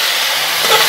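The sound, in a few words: prawn preparation poured into rice in hot pot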